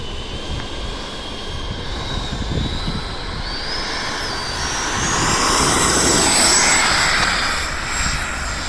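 A small E-flite F-16 model jet airplane taking off, its high whine rising and strengthening over several seconds against outdoor wind and rumble, fairly close and growing louder.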